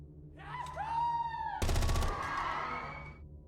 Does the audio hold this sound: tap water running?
no